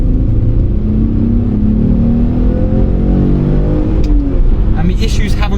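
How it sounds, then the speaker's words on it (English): An Alfa Romeo, freshly fitted with a new ECU, accelerates hard in second gear, its engine note climbing in a loud, sustained rising drone heard from inside the car, with a brief whoop at the end. "Let's give it a second gear pull."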